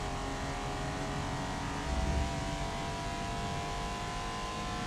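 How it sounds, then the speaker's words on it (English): Race car engine in Forza Motorsport, a steady droning hum with layered harmonic whine that swells briefly in the middle, sounding distant and muffled without any talk. "I don't feel like the car's accelerating any harder than it did before."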